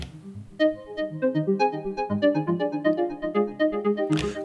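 Third variation of an Elektron Digitone arpeggio preset, a short run of fast pulsing synth notes climbing in a steady rhythm, ending with a burst of noisy brightness, heard alone and fairly loud.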